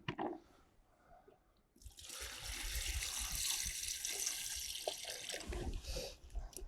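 Water from a bucket is poured over carp fishing boilies, a soft trickle at first, then a steady, loud rushing splash that continues for several seconds, with no speech.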